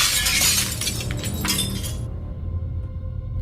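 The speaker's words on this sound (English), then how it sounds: "Hitting the ceiling hard and smashing the overhead light into pieces." An overhead ceiling light fixture of glass smashes loudly into pieces, a bright crash followed by tinkling shards that cut off abruptly into quiet.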